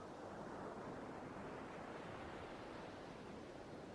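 Waves break on a sandy beach in a constant soft roar of surf, steady and unbroken throughout, with no talking.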